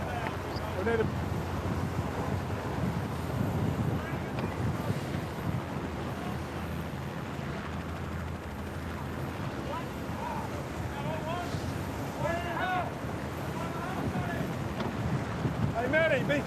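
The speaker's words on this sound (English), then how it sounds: "It's very windy." Strong wind buffets the microphone aboard a racing yacht in the Sydney Hobart race, a constant loud roaring rush with water hiss. Crew members shout and talk over it throughout.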